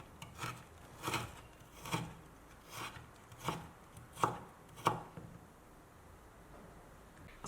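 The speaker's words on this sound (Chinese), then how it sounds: "再把它给切成细丝。" A knife cuts fresh old ginger into thin shreds, giving about eight crisp, evenly spaced chops on a board that stop partway through and leave quiet.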